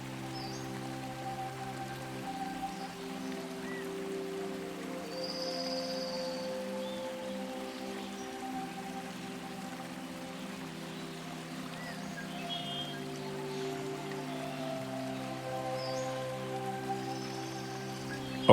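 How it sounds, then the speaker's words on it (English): Gentle water flowing in a woodland brook, a steady broadband wash like light rain under a layer of sustained musical tones, with faint high chirps now and then; no one speaks. "A babbling brook."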